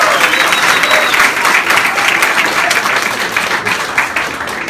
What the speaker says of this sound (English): Let's give it another round of applause for Debbie.